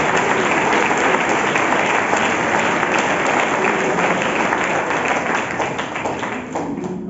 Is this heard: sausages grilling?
no